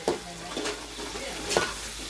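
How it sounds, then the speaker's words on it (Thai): Pork and cabbage sizzle and crackle in a hot pan while a spatula scrapes and stirs, with a couple of sharper knocks of the utensil. "ผัดให้สุกนะคะ"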